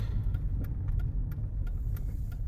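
Mercedes-Benz E320 with a 3.2 litre V6 engine, heard from inside while driving: a steady, smooth low engine drone with road rumble, no talking.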